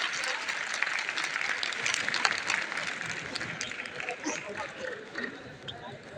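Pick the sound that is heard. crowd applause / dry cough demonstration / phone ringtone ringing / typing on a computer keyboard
crowd applause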